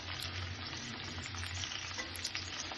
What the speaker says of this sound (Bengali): পেঁয়াজটাকে একটু আমি হালকা ভেজে নিব, বেশি ভাজবো না।